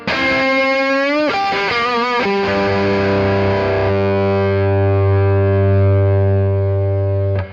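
Heavily overdriven electric guitar through stacked Tube Screamer overdrive pedals, loud and saturated, with bending notes early on before settling into a thick, sustained distorted chord that rings out.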